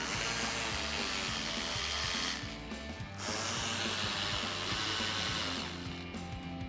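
A power tool backs out the upper and lower fender liner screws on a 2005-2014 Ford Mustang, a steady loud whirring drive that drops briefly around the middle, then runs on without talk.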